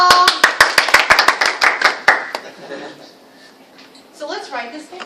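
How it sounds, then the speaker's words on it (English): Small group clapping hands in an English lesson, a quick burst of about a dozen sharp claps in uneven rhythm that stops after two seconds, followed by quiet and a voice speaking near the end. "whenever I start to sing la la la la la, I want you guys to clap."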